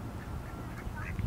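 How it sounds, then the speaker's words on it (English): Ducks quack in a park from somewhere behind a bench, a loose run of nasal calls rising over steady outdoor background noise, fairly close and continuous throughout. "Well, you can hear these ducks quacking."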